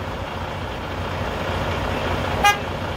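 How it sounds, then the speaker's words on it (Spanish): A 2014 Freightliner Cascadia truck gives one short horn toot to confirm a remote lock, heard once near the end over a steady low background hum. "me dio confirmación con la bocina que recibió el comando y efectivamente trancó el vehículo"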